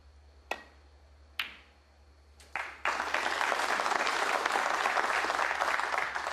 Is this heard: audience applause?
yes